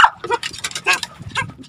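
Angry dog barking and growling at an outdoor fish pen, a rapid run of harsh close barks with no speech.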